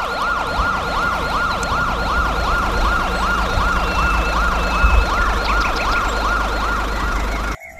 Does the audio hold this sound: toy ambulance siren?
yes